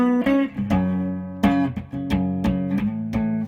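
A clean electric guitar tone, bright undistorted notes and chords plucked in a loose rhythm, each ringing briefly before the next.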